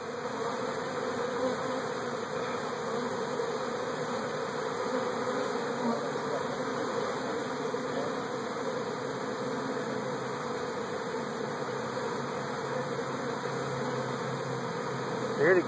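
A honeybee swarm buzzes around a hive, a dense, loud drone that holds steady and close for the whole stretch, with no pauses.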